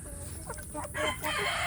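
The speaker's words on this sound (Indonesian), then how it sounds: "Nah, ini kan jago besar ini ya." A large free-range village rooster crows nearby, a short strained call over steady outdoor background noise.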